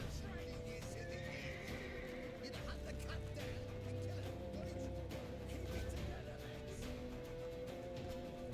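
A horse neighs in The Witcher 3, a whinny rising out of the game's ambient soundscape of hoofbeats and background noise, heard at moderate distance with no talking.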